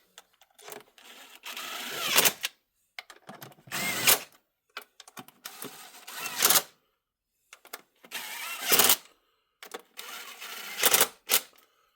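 A hand ratchet tightening a bolt on a vehicle, heard up close as repeated bursts of quick metallic clicking separated by short silences, with no speech.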